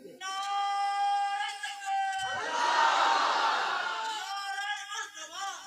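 A large religious gathering answers a takbir call, first a single voice rising, then a loud massed roar of voices shouting together for several seconds before fading.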